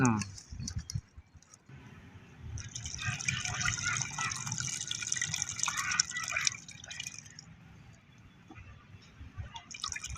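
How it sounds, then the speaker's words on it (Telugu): Water pours into a pot of tamarind fish curry for a few seconds, splashing steadily before stopping, while someone talks in the background. "ఇంకొంచెం నీళ్ళు పోస్తాను"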